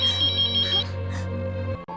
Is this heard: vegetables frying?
no